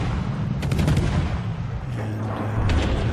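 Heavy naval gunfire from a battleship in a video game: a few dense, rumbling booms with broadband crackle, one cluster early and another near the end, loud and close over a constant low background roar.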